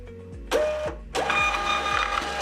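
A WiFi label printer runs a shipping label, its motor whirring in two bursts with a rhythmic mechanical stepping pattern underneath, close and fairly loud.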